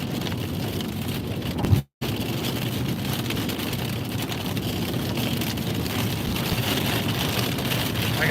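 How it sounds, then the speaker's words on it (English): Heavy storm rain during a tornado warning pours down around a vehicle on the road, a loud continuous wash of drumming and hiss that is briefly cut by a short dropout, with no talking. "This rain is really heavy."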